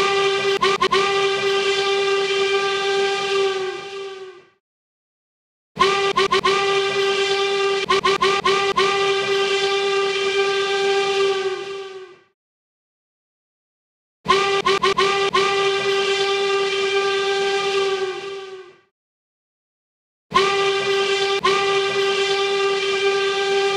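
A steam train's whistle blows four long, loud blasts at a crossing, each holding a rich chord of steady tones and broken by silent gaps.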